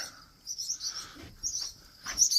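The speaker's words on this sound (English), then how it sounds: "All these goddamn birds, they're friggin' nuts" Agitated birds near their nest in a hay field give a few sharp, high chirps in short bursts with gaps between, moderately close and fairly quiet, with no talking.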